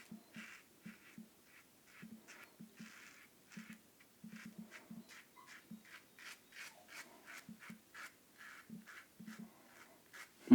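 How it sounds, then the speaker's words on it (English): A Yaqi Ultima Slant adjustable razor at setting 1 shaving close to the mic, soft rasping strokes in irregular bursts with quiet pauses between them. "It is actually shaving in setting 1."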